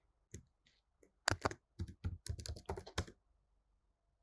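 Typing a command on a computer keyboard in a quick irregular run of close, crisp key clicks, quiet and alone.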